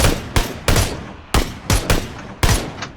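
Gunfire rings out in a PUBG Battlegrounds squad match as a series of loud, sharp close shots in uneven bursts, about seven distinct reports over a few seconds, each decaying quickly, with no voices over them.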